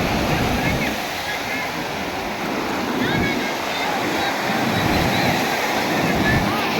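Sea waves rolling and washing in steadily at Dwarka, a constant roar of surf with some wind noise on the microphone.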